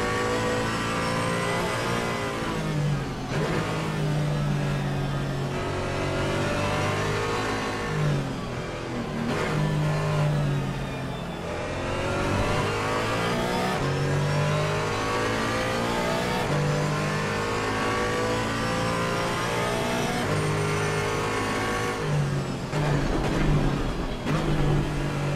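Race car engines in the Assetto Corsa Competizione game at the Nurburgring during a multi-class endurance race, loud and continuous, revving up and shifting repeatedly as cars pass.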